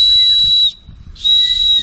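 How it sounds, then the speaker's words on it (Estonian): A loud, piercing whistle sounds in two long blasts separated by a short gap, close by, used as a three-blast distress signal during outdoor survival training for kindergarten children. "Kui sa tahad abi kutsuda, siis sa vilistad 3 korda järjest väikse vahega niimoodi."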